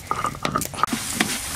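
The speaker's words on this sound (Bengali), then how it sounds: "মশলাটা খুব ভালো করে নেড়ে নিয়েছি, এবার একটু জল দেবো।" Water hits hot spice masala of powdered spices, chopped tomato and salt frying in a pan for prawn kalia, giving a brief hiss and sizzle mixed with scraping, clattering stirring noises, close and alone.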